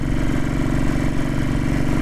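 A Royal Enfield Bullet 500 motorcycle idles close by, its engine thumping in a steady, even rhythm with no other sound.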